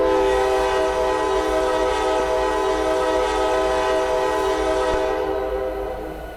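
A sustained horn blast, steady and loud with rich layered tones, holding for several seconds before fading out toward the end, with no talking over it.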